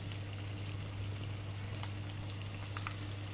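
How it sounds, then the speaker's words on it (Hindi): Bite-sized chicken pieces frying in hot oil for pakora give a steady, even sizzle with scattered small pops over a constant low hum. "इस तरह से आपने इसको फ्राई करना है।"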